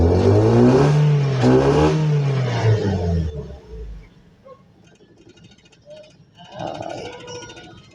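A Ford Fiesta engine with its ABS sensor connector unplugged at the wheel revs loudly and rises in pitch, then settles to a steady idle with faint clatter. Someone talks briefly near the end.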